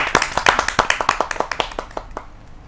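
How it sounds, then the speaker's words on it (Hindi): Small audience at a televised Hindi poetry gathering clapping to welcome a poet, a scattered run of distinct hand claps that thins out and fades toward the end. "तो जोरदार तालियों के साथ हम स्वागत करते हैं नेहा चाचरा बहल चाहत जी"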